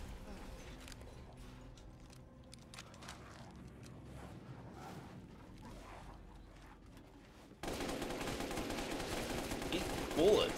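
Gunfire in the video game Resident Evil Village, a dense run of sharp shots and rattling bursts under a steady game soundscape that swells louder partway through, with a voice speaking over it.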